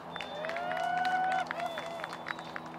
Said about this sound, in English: You can hear the crowd cheering there in the background for Cole's great shot.